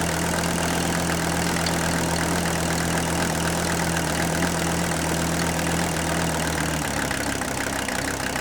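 A Mercedes W126 300SD diesel engine idles, loud and close, with an even clattering knock and a steady drone. A low hum drops away near the end.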